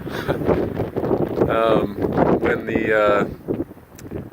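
Strong gusts of wind buffet an outdoor microphone, rumbling and flapping under a man's speech for several seconds.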